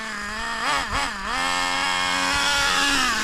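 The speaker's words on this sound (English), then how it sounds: "But as you could probably hear, Alex picked up a Slayer" A Traxxas Nitro Slayer nitro RC truck engine screams at high revs, dipping briefly as the throttle blips before settling back into a steady, loud, buzzing whine close by.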